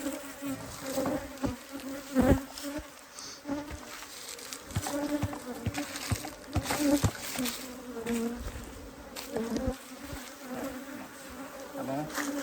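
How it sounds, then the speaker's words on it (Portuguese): Honey bees swarm around hive boxes with a dense, continuous close buzzing, individual bees droning past over a steady hum, with soft thuds and handling noises mixed in. "É muita abelha."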